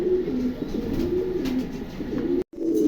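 Mondi pigeons cooing at close range, a series of low, throaty repeated coos over a steady background hiss, broken by a brief cut near the end.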